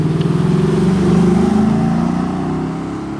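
A Chevrolet Corvette C5 engine roars loudly and steadily close by, holding a strong low rumble that swells slightly midway and then eases off.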